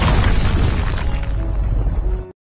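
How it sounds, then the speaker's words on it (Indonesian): A loud, booming explosion in an animated Chinese fantasy series, with a roaring, crackling rumble that sustains for about two seconds before cutting off abruptly. "Karena ledakan dibuat Neili sangat besar"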